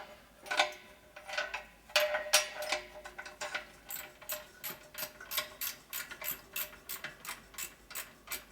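A ratchet clicks in short bursts while working up under a Dayton 240V 7-1/2 hp shop air compressor motor, giving quiet, close metallic ticks in quick irregular runs with brief pauses between strokes.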